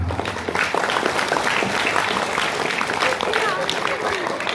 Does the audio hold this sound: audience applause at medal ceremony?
yes